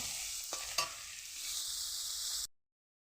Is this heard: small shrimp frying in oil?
yes